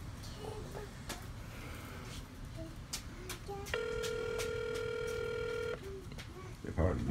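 A telephone call rings unanswered, a steady electronic ring tone lasting about two seconds amid room noise, sharp clicks and nearby voices.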